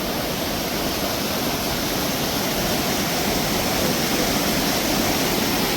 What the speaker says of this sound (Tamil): ஒரு அழகான முறையில் கல்லுகளுக்கால தண்ணி போய் கொண்டிருக்கிறது